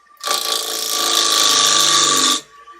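A bowl gouge cuts wood on a lathe in a single sustained, rasping whir with a steady tonal ring. It rises in quickly, holds for about two seconds, then stops abruptly.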